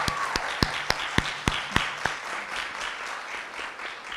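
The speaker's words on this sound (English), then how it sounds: "give her a big round of applause for trying." At a high school performing arts awards night, the audience claps for a student, with distinct close hand claps in a steady rhythm over a broader applause bed that thins out after about two seconds.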